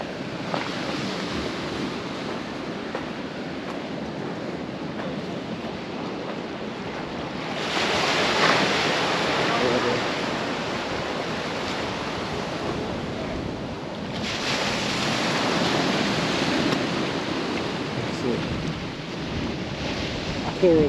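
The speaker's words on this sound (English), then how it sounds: "There's some nice pictures with the water splashing up on them." Ocean waves surge and splash against a rocky coral coast, a steady roar of surf with two louder wash-ups building midway and near the end, under wind noise.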